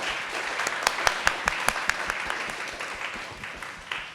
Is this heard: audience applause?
yes